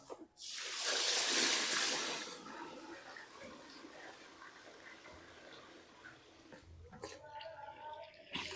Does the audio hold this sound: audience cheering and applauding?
no